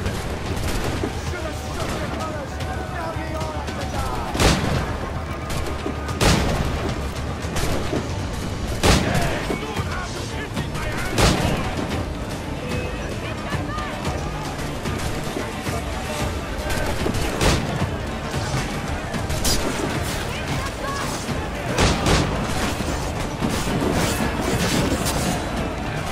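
Ship cannons firing in Assassin's Creed Black Flag, a continuous barrage of booms and cracks layered over dense battle noise and game music, with a voice talking intermittently.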